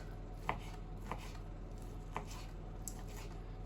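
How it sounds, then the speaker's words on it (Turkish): A knife finely chopping lamb fat for a lamb heart and vegetable dish: four soft, sparse cuts on a board, quiet and close, over low background hum. "Kuzunun kendi sarmasından olan yağlı kısımda böyle ince ince doğrayacağız."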